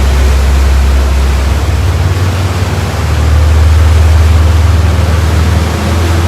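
A loud, steady yacht engine rumble from a Fairline Targa 45 Open, with a deep low drone and broad rushing noise, runs continuously without a break.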